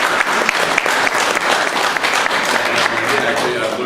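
A crowd at a community gathering applauds to honour a colleague, steady dense clapping that stays loud and even from start to finish.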